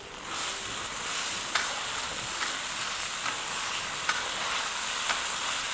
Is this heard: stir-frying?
yes